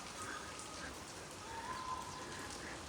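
Monsoon rain falls steadily in Rapar, Gujarat, a continuous soft hiss of drops striking surfaces, even in level and fairly quiet, with no breaks.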